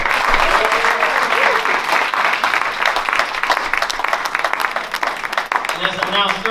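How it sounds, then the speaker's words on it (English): Sustained, loud audience applause fills a tribute concert hall honoring Dr. Martin Luther King Jr., dense clapping continuing steadily throughout with a few scattered cheers rising near the end. "please give him a round of applause."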